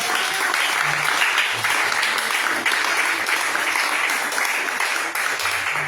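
A church congregation at a prayer vigil bursts into sustained, dense applause that fills the space, with scattered cheers and voices mixed in.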